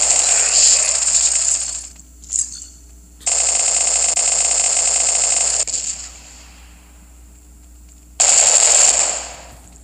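An automatic turret fires in the Modern Ops shooter game in three loud, rapid bursts separated by short pauses, each a dense mechanical rattle of gunfire up close, with no voices over it.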